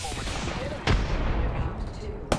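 Gunfire in the battle royale game Apex Legends: two sharp, loud shots about a second and a half apart, cutting through a dense, busy wash of in-game noise.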